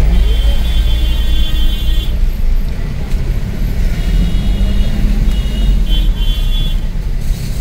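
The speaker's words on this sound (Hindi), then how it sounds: "इवन अभी भी देखो ट्रैफिक जाम है, कंडा घाट पहुँचे अभी, अच्छा खासा जाम लगा हुआ है कंडा घाट में।" Congested traffic in a jam at Kandaghat on the Shimla road, with cars, buses and trucks idling and creeping along. A steady, dense engine rumble holds throughout, with no speech.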